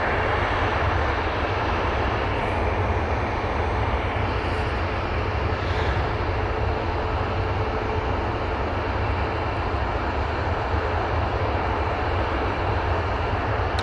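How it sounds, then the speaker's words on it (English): An Aer Lingus airliner arriving at Manchester from Dublin, a loud, steady jet roar that fills the whole stretch without pause and with no talk. "Aer Lingus coming in from Dublin now"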